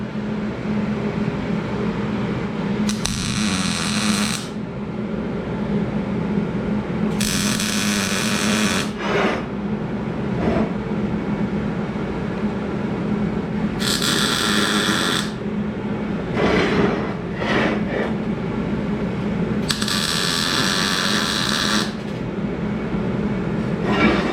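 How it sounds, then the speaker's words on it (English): Tack welds on scrap-metal pieces for a homemade weight-lifting rack: four short, harsh crackling bursts of arc welding, one every few seconds, over a constant loud workshop hum, with no talking. "Okay, I'm going to tack it down now."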